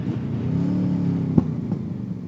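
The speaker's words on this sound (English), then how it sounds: "Those backfires are a little bit wild." Motorcycle fitted with new Lextek headers idling with a low, steady exhaust drone, a sharp pop and a second fainter pop of backfire cracking through near the end, no talk.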